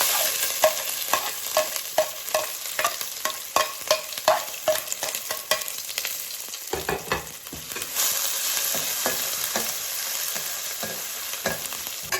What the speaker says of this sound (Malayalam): ഇനി നമ്മൾ ചതച്ച് വെച്ചിരിക്കുന്ന എല്ലാം തന്നെ ഇതിലേക്ക് ഇട്ട് ഒന്ന് ചെറുതായിട്ട് മൂപ്പിച്ചെടുക്കാം.